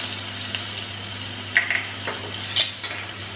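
Garlic paste sizzles in hot tempering oil with cumin and a pinch of asafoetida, giving a steady close hiss broken by two or three quick utensil clinks.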